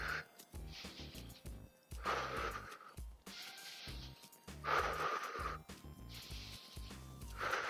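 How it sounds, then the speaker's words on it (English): Deep, steady breaths drawn in through the nose and pushed out through the mouth during endurance training for soccer, close to the microphone, with repeated loud inhale-exhale bursts in a regular rhythm and no talking. "I'm just breathing nice deep breaths in through my nose, getting good oxygen out through my mouth."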